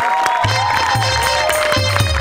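An audience at a Marathi comedy stage show applauds loudly in a dense, continuous wash of clapping and cheering, with music and crowd noise underneath.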